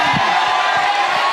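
Stand-up comedy audience in a Marathi show bursting into loud, sustained applause and cheering for the comedian, a dense crowd roar with whoops throughout.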